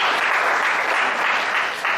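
Steady congregational applause fills a church worship service, a dense, even wash of many hands clapping at close range with no pause, dipping briefly near the end before resuming.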